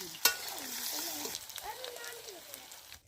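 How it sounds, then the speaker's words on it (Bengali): Potato pieces fry in hot oil at an outdoor picnic cook-up, with a steady bright sizzle and a sharp spatter burst near the start. A voice talks over the frying throughout. "এখন আমরা আলুগুলো ভেজে নিচ্ছি।"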